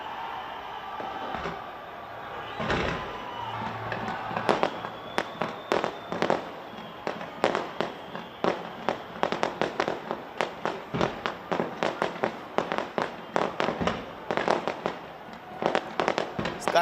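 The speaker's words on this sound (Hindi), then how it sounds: "स्काई टावर की तस्वीर जहां पर जमकर हुई आतिशबाजी।" New Year fireworks over the Sky Tower in New Zealand burst in a rapid, dense run of cracks and booms, echoing at a distance over a low crowd murmur.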